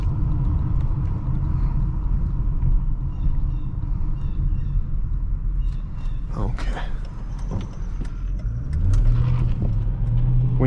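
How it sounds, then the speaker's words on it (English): The 5.7L Hemi V8 of a 2005 Chrysler 300C rumbles from inside the cabin, a steady low drone that swells into a rising rev toward the end, with a few knocks and clicks over it. "when you touch the gas, you get a little bit of that wheel spin, thanks to all that torque down below"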